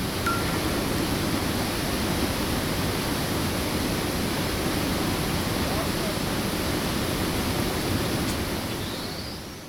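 A river rushes under the edge of the ice in Karelia, a steady, loud, broadband roar of flowing water that holds close and constant, then eases slightly at the very end, with no voices.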